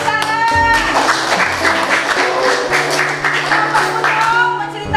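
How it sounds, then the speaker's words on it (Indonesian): A school class breaks into applause, with dense clapping from many hands that stays fairly steady over a faint tonal background and fades slightly near the end. "Iya, tepuk tangan."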